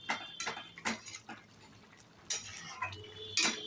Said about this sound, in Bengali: মাঝে মধ্যে একটু ঘেঁটে দিচ্ছি